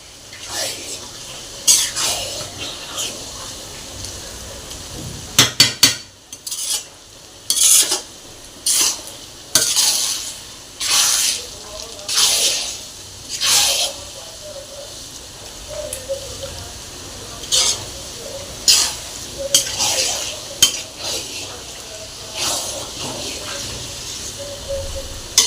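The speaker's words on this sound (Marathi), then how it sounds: "असाच मसाला अर्धा पाऊण तास तरी एकसारखा भाजून घ्यायचा. एकसारखा मसाला हलवत राहिल्यामुळे लागत नाही." Vada pav masala being dry-roasted in a pan, a spatula scraping and stirring it in repeated close, loud strokes with a soft sizzle between them.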